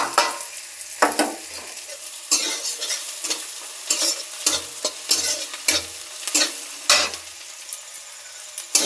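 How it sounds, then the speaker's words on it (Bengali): Chopped onion and green chilli fry in a pan while a spatula stirs them, making repeated scraping strokes at an uneven rhythm over a soft background sizzle, close and clear. "দিয়ে পেঁয়াজটা একটু নেড়ে চেড়ে নেব"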